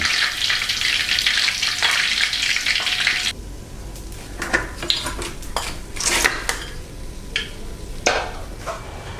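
Sea bass frying in hot oil, a dense crackling sizzle at first, then scraping and clattering of a utensil against the pan with the frying continuing beneath.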